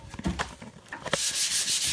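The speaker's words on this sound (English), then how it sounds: "I need to sand, and as I'm sanding, you can see, hopefully," Rough sandpaper rubs over a painting during live painting, making short scratchy strokes in an uneven rhythm that build into a sustained loud rasp toward the end.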